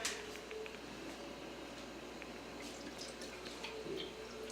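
Water runs steadily into a pot of navy beans with bouillon cubes, a soft continuous splash and trickle from a nearby tap lasting the whole stretch, with no talking over it.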